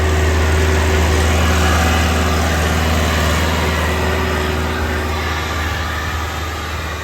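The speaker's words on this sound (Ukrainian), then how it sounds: "Сівалка працює в суперагресивних умовах." A seed drill sowing sunflowers in a field under very harsh conditions, pulled by a tractor whose engine drones steadily and loudly throughout, a continuous mechanical rumble with a faint high whine and no pauses.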